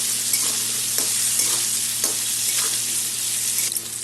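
Potatoes sizzle in a pan with turmeric, salt and black cumin, a loud continuous close-up frying hiss with a few soft stirring knocks and no voices.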